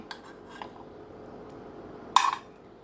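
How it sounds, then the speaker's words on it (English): Broccoli being served into a bowl with metal utensils for a Chinese casserole: a few light clinks early on, then one sharp, close scrape and clatter of utensil against bowl, with no talking. "So I'm going to put some broccoli on it."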